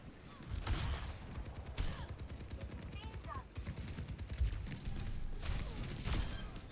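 Fast bursts of automatic gunfire from a competitive team shooter match rattle steadily in repeated volleys close to the mic, with impacts mixed in and players talking over the shooting.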